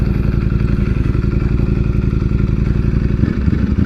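A Ducati Streetfighter V4S motorcycle engine idles close by with a steady, fast, low-pitched pulsing throb, alone and even in level throughout.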